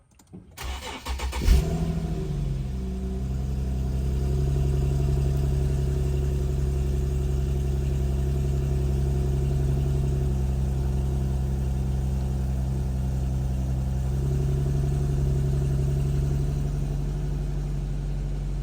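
A 2008–2013 Infiniti G37S coupe engine cranks briefly with a push-button start, catches, and settles into a steady low idle that hums on evenly for many seconds, close and alone with no talk.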